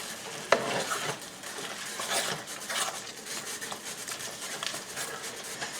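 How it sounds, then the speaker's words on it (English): Ground beef stroganoff with two cans of ingredients stirred in a pan, a close, continuous scraping and swishing of a utensil over a faint sizzle, with one sharp knock near the start and no voices. "And we're just going to start stirring that together."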